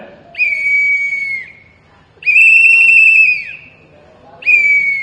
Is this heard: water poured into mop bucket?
no